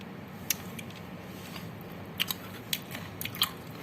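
A bite of spicy pounded peanut salad is chewed close up, with a few faint, crisp crunches scattered over a soft background hiss.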